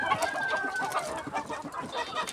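Hens about four and a half months old cluck busily on a laying poultry farm. A continuous chorus of overlapping birds sounds fairly close but moderately quiet, with no talking.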